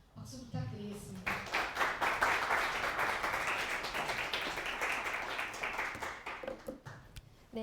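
An audience at a 2023 design seminar in Korea applauds, a dense wash of clapping that swells quickly, holds steady for several seconds, then thins into scattered claps.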